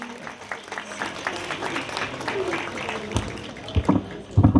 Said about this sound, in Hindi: कृष्ण पांडे के लिए एक बार जोरदार तालियों से उनको उत्साहित कीजिए।